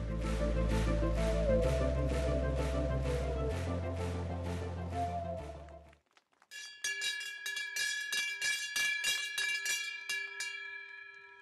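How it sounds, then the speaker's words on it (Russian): A traditional Peace Bell rings at an Earth Day ceremony, a series of rhythmic clanging strikes followed after a short pause by brighter ringing tones with long shimmering overtones, heard alone without talk. "Традиционный колокол мира прозвенел в Международный день Земли."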